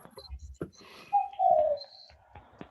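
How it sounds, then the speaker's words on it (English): A bird in the background gives a short cooing call, like a pigeon or dove, faint and brief amid quiet surroundings, with a few soft chirps and a person's voice nearby. "By the way, is that bird?"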